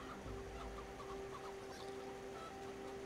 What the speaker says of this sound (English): the chickens are chasing me